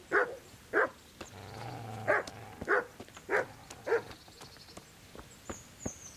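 Several dogs bark in the medieval role-playing game Kingdom Come: Deliverance, about six separate sharp barks spaced roughly half a second to a second apart, moderately near, over a quiet outdoor ambience with faint hoof-like clicks and no talk.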